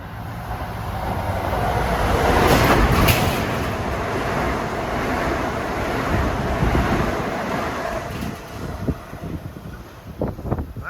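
Metro North train 1470 bound for Bridgeport rushes past at Mamaroneck station, a loud broad roar that swells early and slowly fades, heavy wind buffeting the microphone, with a few sharp rattles near the end.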